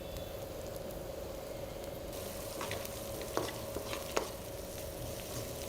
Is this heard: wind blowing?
no